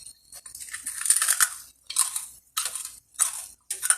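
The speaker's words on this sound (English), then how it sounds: "Can you hear that crunch?" Crisp, loud crunches of chicharrones (pork rinds) being bitten and chewed close up, coming in four or five separate bursts with short pauses between them and no talking.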